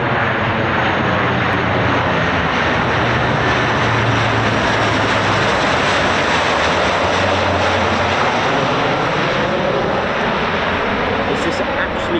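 An MC-130J four-propeller transport approaching to land at an RAF base, a loud sustained engine drone with throbbing low hum, steady and close throughout while a voice talks over it.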